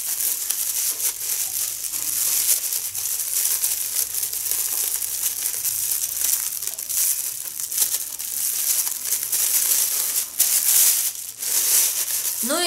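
A plastic packet from a GREENMAMA cosmetics order is handled, giving a steady stream of crinkling and rustling that runs nearly the whole time, fairly close and moderately loud, with no speech.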